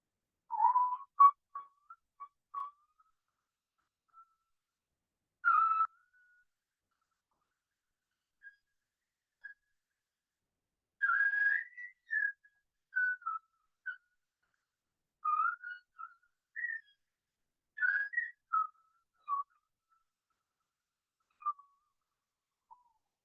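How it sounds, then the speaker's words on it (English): A man whistling a Hindi song, short melodic phrases with gaps of silence between them, clear and close in a quiet room. "like this Hindi songs and Western, I used to whistle"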